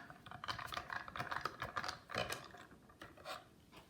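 A mini Big Shot die-cutting machine is cranked by hand for a card project, giving a steady run of close, dense clicking and grinding mechanical ticks for a few seconds.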